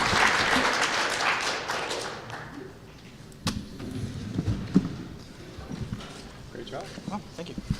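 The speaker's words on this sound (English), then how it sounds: "I'd like to have a big round of applause for our panelists." Conference audience applauding the panelists at a web application security panel, a dense clapping wash that thins out after a few seconds into scattered claps, footsteps and murmuring voices.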